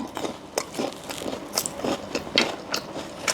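Crunchy fresh dates bitten and chewed close to the microphone, a rhythmic series of crisp crunches and moist chewing sounds repeating every half second or so, with no talking.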